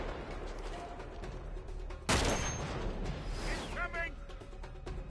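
Gunfire in the video game Uncharted 3: Drake's Deception, a sharp burst of shots and impacts rising over a constant game background, with whooshing effects trailing off afterward.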